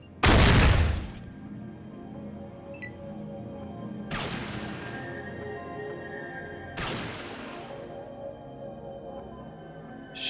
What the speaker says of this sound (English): And continue shooting.